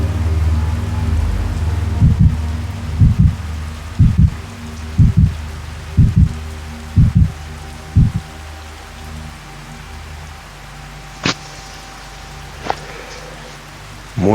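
Steady rain falls throughout with a deep rolling thunder rumble at the start, then a series of regular low thumps and a few sharp cracks later over the constant downpour.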